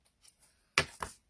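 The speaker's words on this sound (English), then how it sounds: "Now I'm going to cut my ribbon." Scissors cut through ribbon in two quick, close snips, with faint rustling before them in an otherwise quiet room.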